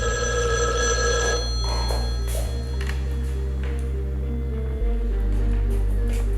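An old telephone bell rings in repeated bursts over a steady low hum, fairly loud and close, with a short click partway through as the tone underneath shifts.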